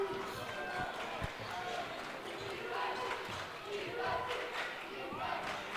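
A high school basketball crowd cheers for Littlestown in a gym, a continuous loud wash of voices with sneaker squeaks and ball bounces scattered through it.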